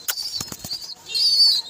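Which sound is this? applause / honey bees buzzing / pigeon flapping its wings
pigeon flapping its wings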